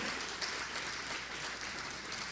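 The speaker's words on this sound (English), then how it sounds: "Please give a big round of applause for Danielle Tucker" Steady applause fills a church service in honor of guest artist Danielle Tucker, a dense, even wash of many hands clapping that stays at a moderate, fairly distant level throughout with no talk over it.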